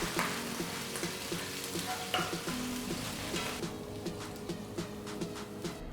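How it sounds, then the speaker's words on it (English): Garlic, ginger, green chilies and curry leaves sauté in hot oil for street-style chilli parotta, giving a steady close sizzle with a few light stirring scrapes throughout. "Saute it for a minute."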